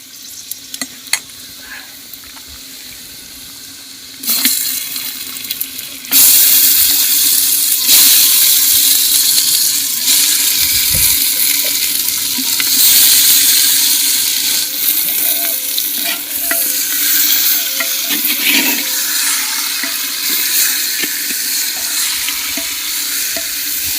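Marinated chicken sizzles and fries loudly in a handi pot over a country clay stove, with steady stirring and scraping throughout and no talking.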